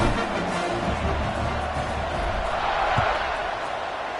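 Broad crowd roar fills a football video game stadium before kickoff, a steady wash of cheering with commentary voices over it.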